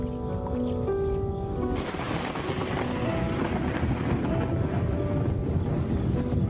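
A thunderstorm roars across lion country in a dense, rushing wash of heavy rain and wind that swells in after a brief tonal opening and stays loud and unbroken to the end.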